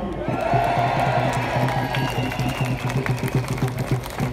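A dense rally crowd cheers loudly and steadily for several seconds at an anti-Brexit rally, sustained whoops and shouts mixed with scattered clapping, close and enveloping throughout.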